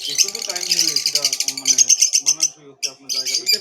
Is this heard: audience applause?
no